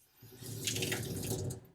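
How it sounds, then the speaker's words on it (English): Tap water runs steadily into a sink as a paint roller cover soaked in water-based paint is rinsed, a continuous close splashing rush that swells after a quiet start and holds for under two seconds. "now I'll rinse it out again"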